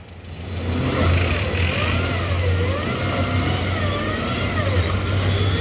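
A car engine revs hard and strains as the vehicle struggles through deep mud on a road near Delhi, the loud rising and falling whine sustained over a low rumble.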